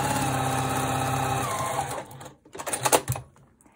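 A sewing machine hums steadily at close range while sewing a seam down the middle of a quilt heart block, then winds down and gives way to a few brief clacks of handling.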